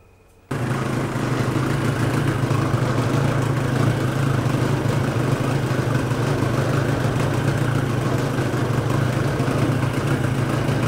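Parsun 25 outboard boat motor, unboxed and overhauled with a replaced impeller but still overheating, starts after a brief quiet moment and then runs at a steady, loud, even drone for the rest of the clip, with no talk.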